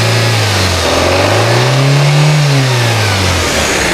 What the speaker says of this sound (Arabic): نقول الاكسلاتير، اسمعوا الصوت